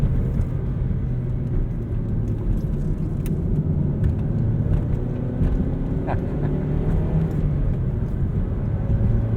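Four-cylinder engine of a 2012 Mazda 3 Skyactiv running on the road, a steady loud low drone and rumble with a whooshing, vacuum-like quality, continuous throughout with faint light rattles.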